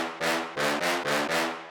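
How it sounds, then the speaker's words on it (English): Synth brass bass patch designed in Vital, playing four punchy sustained stabs in an even rhythm, each a bright, buzzy, harmonically rich blare with a swelling attack, loud and alone. "This is what the bass sounds like, or the brass sounds like."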